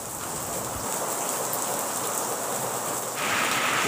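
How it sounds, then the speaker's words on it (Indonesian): Steady heavy rain pouring down all day, a dense continuous hiss of drops that swells slightly louder near the end, with no voices. "ti isuk sampai sore hujan bae"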